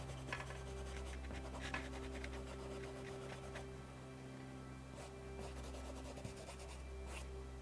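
Paintbrush scrubbing acrylic paint back and forth on canvas, a soft, steady dry rubbing and scratching that runs continuously and faintly, close up, with no voice over it.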